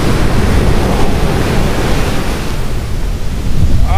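Ocean waves at Crystal Beach, Zambales, roar as a steady, loud wash of surf with heavy wind buffeting the microphone throughout, with no voices.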